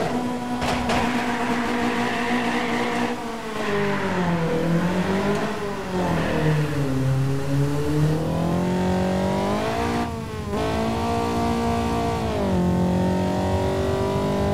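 Video-game car launching down a quarter-mile drag strip, engine loud and continuous, revs climbing and dropping through repeated gear shifts, with no talk over it.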